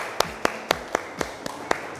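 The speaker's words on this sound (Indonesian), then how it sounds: "kita beri tepuk tangan sekali lagi untuk ketua kelas terpilih" A classroom applauds a newly elected class leader with seven sharp, evenly spaced claps, each one distinct and not blending into a wash of applause.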